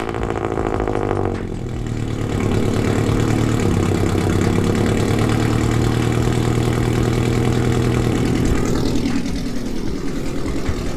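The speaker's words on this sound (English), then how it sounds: "Let's get a cold start going." A loud car engine cold-starts and settles into a steady, rumbling idle close by, with a brief dip in level early on and no talking.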